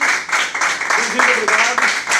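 Applause from an audience at a cultural presentation, steady crowd clapping throughout, with voices audible over the clapping.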